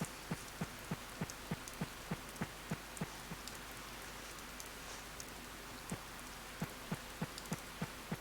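Rain in a video game fishing scene, a soft steady patter of falling rain with faint quiet hiss underneath, accompanied by a regular low rhythmic thump pulsing through most of the scene, no voices.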